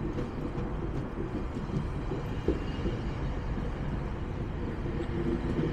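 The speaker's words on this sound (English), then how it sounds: "now this train will go to Union Station" A train passes close by in Liberty Village, Toronto, heading for Union Station, with a steady, loud rolling rumble of wheels and coaches that continues throughout with no talk.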